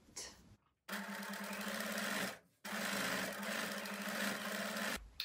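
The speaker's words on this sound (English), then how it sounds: "I'm going to put the ribbon through the middle like that and sew it" A sewing machine stitches ribbon onto fabric in two steady runs of rapid, humming needle strokes, close and clear, separated by a brief pause.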